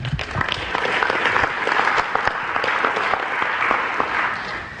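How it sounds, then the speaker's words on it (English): An audience at a motivational talk gives a round of applause, a dense, steady patter of many hands clapping at moderate volume for several seconds without a break. "All right, give him a round of applause there."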